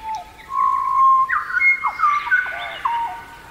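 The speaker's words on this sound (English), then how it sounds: "Here is the song of the pied butcher bird." Pied butcherbird song from Australia: a sequence of clear, flute-like whistled notes and gliding phrases, melodious and close, heard alone without talk.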